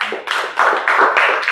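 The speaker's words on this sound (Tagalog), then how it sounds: "Palakpak." A church congregation claps together in a brief burst of applause, several bursts of hand claps close and fairly loud, with no talking over it.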